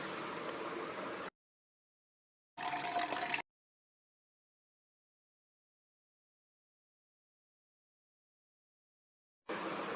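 Water runs steadily from a tap into a water bottle in two bursts with a long silent gap, then starts again at the end, a smooth hissing flow.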